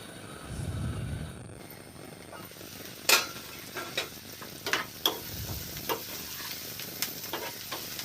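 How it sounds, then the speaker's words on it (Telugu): Bitter gourd pieces fry with raw prawns in a pan, giving a soft steady sizzle with scattered sharp stirring clicks and a low rumbling hum underneath. "ఇవి దోరగా వేగిన తర్వాత కాకరకాయ ముక్కలు వేసుకోవాలండి."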